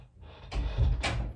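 A door being opened indoors: a short, close creak and thud followed by a brighter clack of the latch, all within about a second and a half, with no talking.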